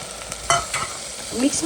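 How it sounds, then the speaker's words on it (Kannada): Tomatoes get mashed and stirred with ginger garlic paste in a hot pan while making mutton boti sukka, close scraping and squishing strokes over a constant sizzle, several quick rhythmic pushes. "ಟೊಮೆಟೊನ ಒಂಚೂರು ಎಡ್ಡೆ ಸ್ಮ್ಯಾಶ್ ಮಾಡ್ದೇರು"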